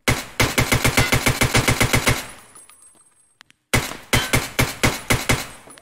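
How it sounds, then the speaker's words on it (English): A Tx-15 rifle hip-fired in Escape From Tarkov, first as a rapid burst of about fifteen loud, sharp shots, then a brief near-silent pause with a faint click, then a second, slower burst of shots, all close and with no talk. "It's incredibly easy to use this weapon. Even like just hip firing."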